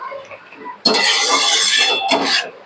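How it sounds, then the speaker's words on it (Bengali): Fried paneer cubes tipped into a pan for paneer makhani, setting off a sudden loud sizzle that holds steady for over a second, breaks briefly and then returns before dying away. "এখন ভাজা পনিরগুলো যেগুলো রাখা ছিল সেগুলো দিয়ে দিলাম।"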